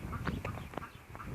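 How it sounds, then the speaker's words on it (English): A duck with ducklings outdoors in open countryside, giving a few short quacks and peeps at close range over steady background noise. "duck with baby ducks"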